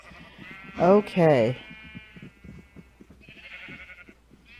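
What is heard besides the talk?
sheep bleating in Minecraft, video game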